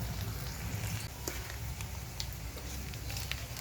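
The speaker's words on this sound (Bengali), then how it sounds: "ভালো করে পেঁয়াজটাকে ভেজে নেব।" Chopped onions frying in a pan for a home-cooked fig dish, a steady low sizzle and crackle with faint occasional pops, soft and continuous and heard without anyone speaking.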